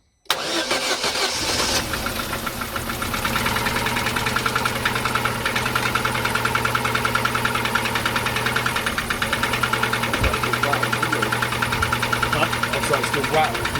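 An Opel Astra H with a Z16XEP Twinport engine cranks briefly, catches and settles into a steady, close idle with a faint rattle, droning on with no voices.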